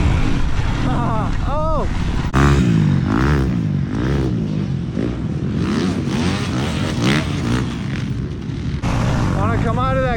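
A motorcycle engine revving hard through a wheelie out of a corner on a dirt jump course, rising and falling whines up close while a rider shouts over it.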